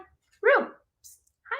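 A pet dog at home gives one short, clear yelp or bark near the microphone, followed by a faint later sound, while someone speaks softly around it.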